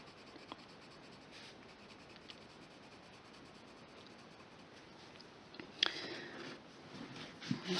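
Coloured pencil scratches across paper in a quiet, continuous rubbing while a Zentangle pattern is shaded, with a few louder strokes and bumps near the end.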